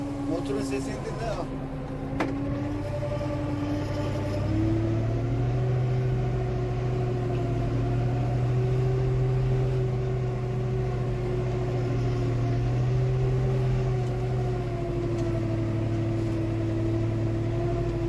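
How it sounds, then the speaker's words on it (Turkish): An Erkunt tractor engine runs steadily close by in a village, a continuous low droning hum with a stable tone and slight shifts in pitch, while faint talk is heard over it. "Motorun sesini dinle."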